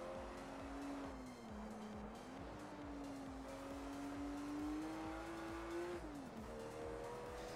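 A race car engine in the video game Project Cars 2 holds a sustained high-revving whine, pitch rising and dipping with gear changes and throttle, with faint tire noise and a steady rumble beneath.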